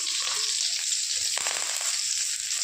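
Onions and curry leaves sizzle steadily in hot oil after mustard seeds have popped, a dense continuous frying hiss with a few soft stirring scrapes in the middle.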